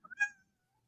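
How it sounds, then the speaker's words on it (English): A house cat gives one short, clear meow up close, starting with a couple of soft chirps and then fading into silence. "Hey, kitty cat."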